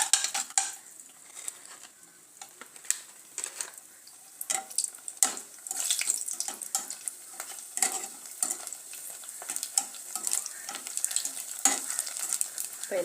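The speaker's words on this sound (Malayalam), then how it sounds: "അപ്പോൾ നമുക്കിത് വറുത്ത് പോരാവേ." Puris for instant pani puri frying in hot oil, a soft crackling sizzle broken by clinks and scrapes of a utensil against the pan, quiet and close with no voices.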